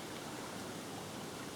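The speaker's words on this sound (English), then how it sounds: "you've got some nice streamy water there if you want to trot for chub" A river runs fast and streamy after a flood, giving a steady, broad rushing hiss of flowing water with no voices.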